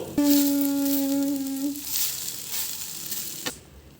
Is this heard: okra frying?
yes